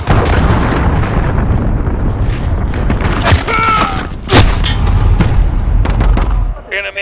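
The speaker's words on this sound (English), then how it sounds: "Enemy cruise missile!" Enemy cruise missile strike in Call of Duty Modern Warfare: a heavy booming blast with sharp cracking impacts and rumbling debris, loud and close, mixed with game radio voices and other battle noise.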